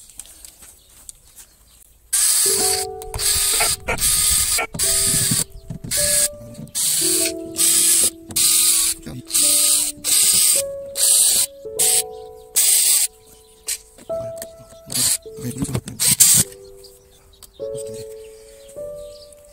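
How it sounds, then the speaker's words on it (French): A power screwdriver takes out the screws on a camper van's vent grilles, with repeated short whirring bursts that rise and fall in pitch, separated by brief pauses, close and fairly loud. "Donc il faut dévisser toutes les vis, enlever les joints, tout nettoyer sur les deux grilles."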